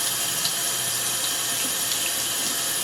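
Warm tap water runs steadily into a sink while a makeup brush is washed, a continuous close splashing flow with no break and no voices.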